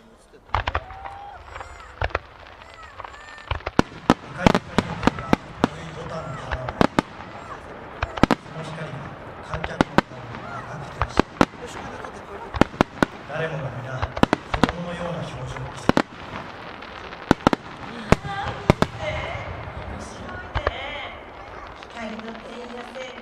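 Fireworks by Kanno Enka at the Aizu fireworks festival crack and boom in rapid, irregular bursts, some sharp and loud, over a steady rumble of crowd and background noise.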